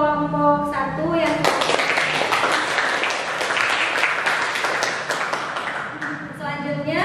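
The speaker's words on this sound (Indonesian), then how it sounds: "tepuk tangan untuk kelompok 1" A classroom gives a round of applause for a presenting group, a steady burst of clapping lasting several seconds between brief spoken remarks at the start and end.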